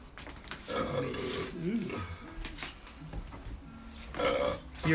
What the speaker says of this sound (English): you're live with that burp,